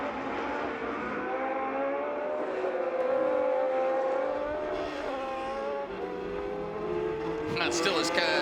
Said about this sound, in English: Across the line they come then, in a great sprint race here for Formula One.